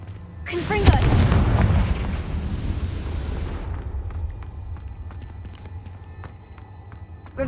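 A Confringo blasting spell in Hogwarts Legacy erupts with a loud, sharp burst that rolls into a long, fading rumble.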